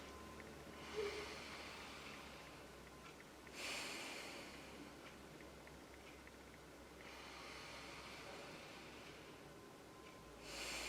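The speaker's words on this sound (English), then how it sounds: "Closing again today with 3 deep breaths in and out of your nose." Slow, deep nasal breaths in a quiet room, each soft hissing inhale and exhale swelling and fading in a calm, unhurried rhythm, close and gentle with no talking.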